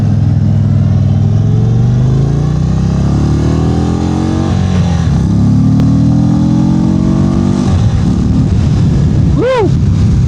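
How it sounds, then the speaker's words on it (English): An Indian Sport Chief's air-cooled V-twin revs hard, loud and close, its pitch rising and falling in repeated sweeps with a throaty intake gulp, while a voice briefly talks over it. "So the air-cooled, especially with this intake, you can hear it gulping even more so."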